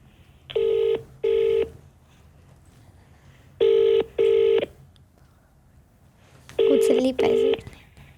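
A mobile phone on speakerphone plays a call's ringback: three pairs of even electronic tones in a steady rhythm, separated by short gaps, clear and close over a quiet room.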